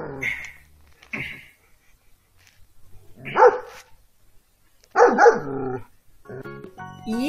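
A dog barks several times with gaps between, the later barks louder and closer, ending in a higher whining yelp.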